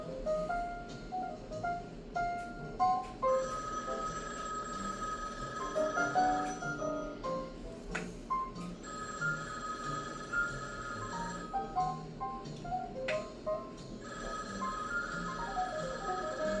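A telephone bell rings on and on, going unanswered, in repeated bursts with bright metallic tones and faint music or movement underneath, no speech.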